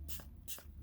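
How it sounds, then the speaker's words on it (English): Best Press spray is pumped onto fabric stabilizer in two quick hissing bursts about half a second apart, close and soft, with no talking. "So we're going to use some Best Press to just spray on the shiny side"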